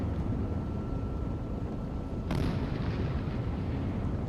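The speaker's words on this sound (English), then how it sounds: "Not sure if that's secondary explosions or if that was still rounds coming in." Rumbling explosions and incoming rounds from the Sea Power naval combat game, a sustained low roar with a sharper burst partway through, moderately loud with no talking.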